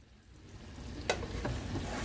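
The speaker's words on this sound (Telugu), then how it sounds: "సిమ్ చేసుకొని వేయించుకోవాలి బాగా ఉడికి వరకుని మగ్గి వరకుని" Stuffed bitter gourd frying slowly in a pan on low heat, a soft steady sizzle with a couple of brief utensil scrapes, fairly faint and without speech.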